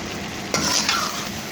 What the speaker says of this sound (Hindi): हरा धनिया डालने के बाद 2 मिनट के लिए चमचा हिलाएंगे